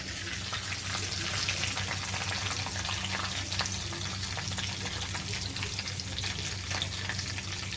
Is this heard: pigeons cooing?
no